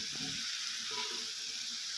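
Crispy fried catfish being stir-fried in a hot wok for a spicy dish gives a continuous, even sizzling hiss with faint scraping of stirring underneath.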